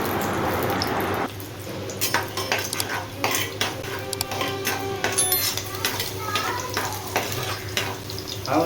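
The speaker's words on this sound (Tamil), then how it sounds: "எண்ணெய் நல்லா ஹீட் ஆனதும் ஒரு கைப்பிடி அளவுக்கு சின்ன வெங்காயம் போட்டுக்கோங்க" Small shallots dropped into hot oil in a clay pot, bursting into loud close sizzling after a steady hiss, with clinking utensil stirs and scrapes throughout.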